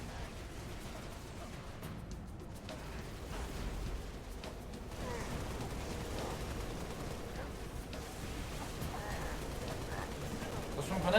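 Gunfire in the video game Halo Reach, with a muffled, continuous rumble of weapon fire and explosions in a busy firefight, sustained and fairly dense throughout.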